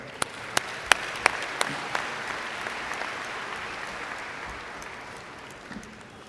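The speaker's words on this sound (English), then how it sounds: "Let's give him a big round of applause." Audience applause at the Metropolitan Community College-Kansas City 2023 commencement, a steady wash of clapping with a few sharp, close claps early on, gradually thinning out toward the end.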